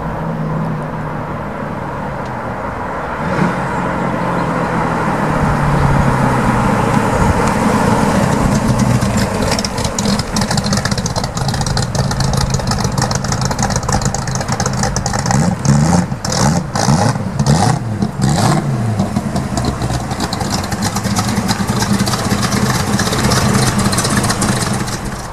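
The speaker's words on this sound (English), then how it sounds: "I can hear that V8 rumbling now." A 1965 Ford Mustang with a 289 V8 rumbles as it approaches, its deep idle building to loud revs and throttle blips near the middle before settling back into a steady burble, with no talk over it.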